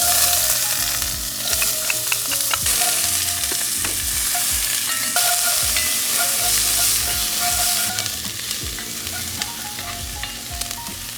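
Onions fry in avocado oil inside a cast iron Dutch oven, giving a steady loud sizzle with scraping and stirring clatter that runs throughout.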